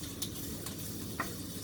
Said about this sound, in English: I'm going to cut up the rest of this chicken, and that's going to be frying away